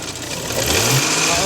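Porsche Macan S engine with a faulty timing chain runs loud and close, a dense rough drone that rises slightly in pitch as it revs, with a voice talking over it.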